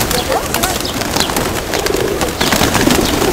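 Pigeons coo and flutter up into flight nearby, with wingbeats and calls layered over a dense, steady outdoor background; a voice talks under the birds.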